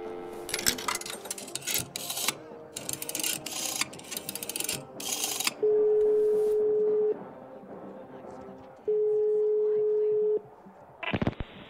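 Phone sounds from the Atomic Heart video game: early on a burst of rapid clicky dialing tones, then two long steady busy-signal tones sounding in turn, each ending abruptly, with a short sharp noise at the close.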